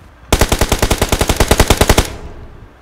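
Rapid automatic gunfire from PUBG, a burst of about sixteen sharp, evenly spaced shots lasting under two seconds, loud and close, then a brief fading tail.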